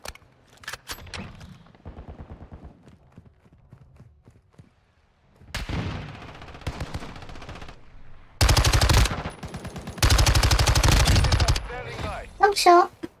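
Bursts of MX9 submachine gun fire in the video game Modern Warfare II, loud rapid automatic volleys with short pauses, alongside scattered in-game effects and brief voice lines.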